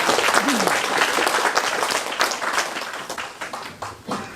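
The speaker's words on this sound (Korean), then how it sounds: "다시 한번 박수 보내주시면 감사하겠습니다" At the Nogeun-ri Peace Prize award ceremony, an audience applauds continuously, with dense clapping filling the hall and a voice briefly audible over it.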